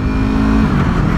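A manual car engine accelerating after a gear shift, a loud, close, steady drone with a smooth rising pitch over a brief moment.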